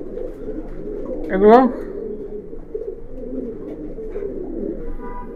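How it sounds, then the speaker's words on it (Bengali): Chini Kaldom pigeons, a large breed, give a clear cooing call near the middle of the clip over the steady murmur of a loft, with someone speaking briefly. "সাইজটা দেখেন কি বিশাল একটা সাইজ, খুব সুন্দর একটা কবুতর"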